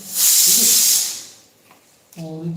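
A pressure cooker holding potatoes and rice lets out a loud hissing steam whistle for about a second, then it dies away, and a voice speaks afterward.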